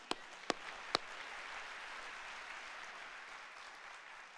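A crowd applauds at Chandler's 2026 State of the City address. Three sharp, nearby claps open the sound, then a faint, steady wash of distant clapping follows.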